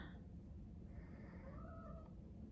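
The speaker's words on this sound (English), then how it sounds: "That was my cat" A pet cat gives a faint, drawn-out meow from a distance, rising and bending in pitch over a low steady room hum.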